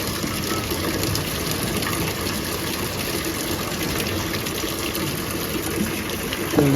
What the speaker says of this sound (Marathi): ही खूप जुनी विहीर आहे तरी अजून सुद्धा ह्याच्यातून पाणी येतं